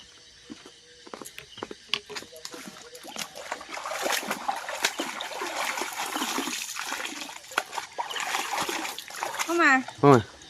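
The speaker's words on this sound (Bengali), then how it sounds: "ব্যাগটা ধুয়ে নিয়ে এসো" Splashing and sloshing as a bag is washed in water at night in the Sundarbans during crab catching, with irregular bursts building through the middle and a voice and other talk mixed in.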